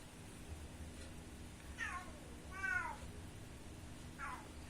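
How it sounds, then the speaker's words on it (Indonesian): A cat meows three times in a quiet room, with rising, tonal calls spaced about a second apart over a low steady hum. "ada kucing sana-sana lah."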